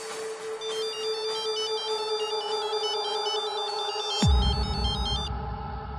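A telephone rings steadily in a Hindi-dubbed love-story film, its repeating electronic ringtone pattern loud and clear over a background music bed, with a low rumble entering near the end.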